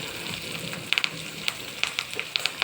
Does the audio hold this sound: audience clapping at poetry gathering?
no